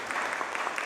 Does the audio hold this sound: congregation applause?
yes